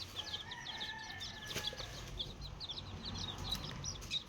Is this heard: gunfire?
no